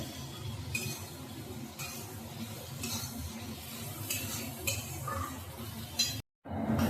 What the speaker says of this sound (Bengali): আমাদের চিংড়ি মাছ সর্ষে পোস্ত দিয়ে ঝাল হচ্ছে